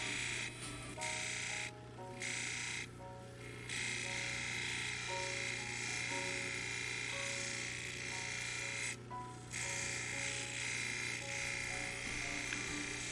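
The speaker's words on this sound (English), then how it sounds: "on this wheel, we'll refine our shape and we'll get all the facets off" A lapidary wheel grinds and shapes a honeycomb opal gemstone, giving a steady close-up mechanical hum with a faint buzzing whine that runs unbroken and dips briefly a few times.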